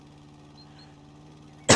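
A single abrupt cough from someone with a sore throat and cold symptoms bursts out at the very end after a quiet, humming background.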